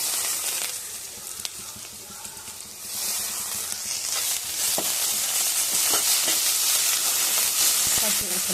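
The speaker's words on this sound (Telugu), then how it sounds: "పుదీనా ఆకులు ఫ్రై అయిపోయాయి" Mint leaves frying in a pan with onions for egg dum biryani, a steady broad sizzle throughout with faint stirring clicks, growing a bit louder in the second half.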